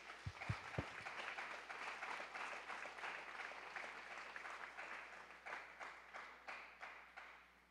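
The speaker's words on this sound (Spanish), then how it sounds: "Dele fuerte el aplauso al Señor." Congregation in a church service claps for the Lord, opening with a few sharp low thumps before settling into steady, moderately loud applause that turns into rhythmic, evenly spaced group clapping near the end.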